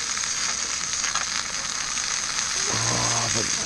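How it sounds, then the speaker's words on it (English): Crawfish sizzle hard in smoking-hot oil in a pan, a loud, steady frying hiss that runs the whole time, with a brief low clatter near the end as they shift in the pan. "they're sizzling a lot because there's a lot of moisture in them"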